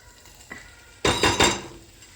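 Methi bhaji with moong dal cooking in a pan, a faint background sizzle broken by a light clink and then a few louder scraping stirs of a spoon against the pan.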